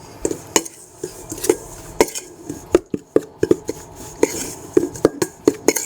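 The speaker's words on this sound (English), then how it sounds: "I'm going to put in about 3/4 of that cheese and just give that a little stir" Grated cheese being stirred into scone mixture in a bowl, irregular knocks and scrapes of a utensil against the bowl, close and fairly loud, with no talking.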